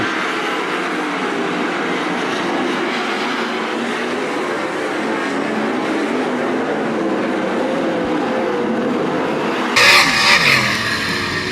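Sprint cars racing at Attica Raceway Park, a dense, continuous roar of engines heard from a distance across the dirt oval, with a sudden louder burst near the end.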